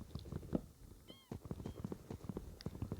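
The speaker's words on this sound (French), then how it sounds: "Un chat." A short cat meow from Minecraft on mobile, version 1.19, lands briefly amid clicky in-game sounds and bumps, without any talking.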